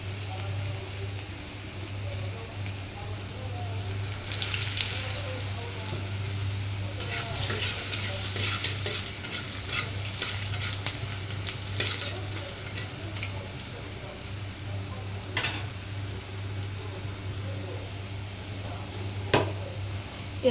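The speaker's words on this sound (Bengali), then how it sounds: "এখন কড়াইয়ে কয়েকটা গোটা কালো জিরে দিয়ে ফোড়ন দিয়ে টুকরো করে কেটে রাখা আলুগুলো দিয়ে দেব।" Potato pieces fry in a wok tempered with whole black cumin seeds, a low steady sizzle broken by sharp scraping and stirring clatters from a spatula, with no talk.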